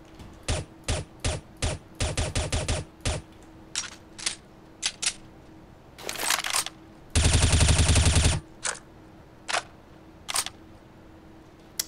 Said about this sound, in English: Let's go ahead and take a look at how these weapons sound when they have the silencers on and off.